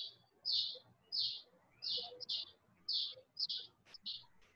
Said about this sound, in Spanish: Alguien que tiene prendido el micrófono, se le escuchan los pajaritos